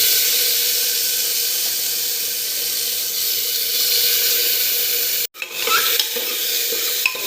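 Chopped tomatoes hit browned onions in a pan while a potato curry is cooked, giving a loud, steady sizzle with stirring scrapes; the sound cuts out briefly near the end, then resumes with a few clinks.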